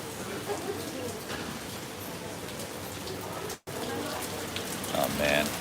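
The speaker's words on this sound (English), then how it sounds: "It's really raining." Heavy rain falling outside in Ikebukuro, Tokyo, a dense steady hiss of drops pattering on surfaces, close and constant, with a brief dropout midway and faint sharper ticks near the end.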